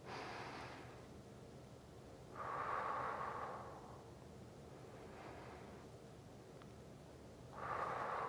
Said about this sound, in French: On y va pour 3 grandes respirations.